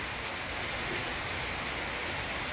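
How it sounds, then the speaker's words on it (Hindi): Heavy rain falls steadily in Mauritius, a dense, even hiss of water that stays constant and loud throughout with no voices. "ओह गॉड, क्या बारिश है, कभी भी बरसती है।"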